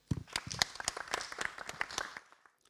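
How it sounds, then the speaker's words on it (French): Studio audience applauding a slam performer's introduction on a French-language television show, dense clapping at close range that runs steadily for a couple of seconds and then stops abruptly. "Blackwell, lui, dit Black Wizard, qu'on applaudit très très fort"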